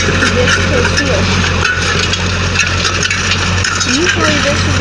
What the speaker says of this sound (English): my grandpa using his John Deere 310A backhoe and John Deere disc being pulled by his backhoe to disc his field